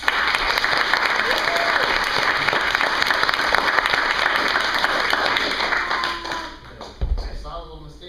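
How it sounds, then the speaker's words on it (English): An audience applauds at a green belt martial arts testing, dense steady clapping filling the room for about seven seconds before trailing off, followed by a few close thumps and a brief burst of voices. "Clap for Miss Packer."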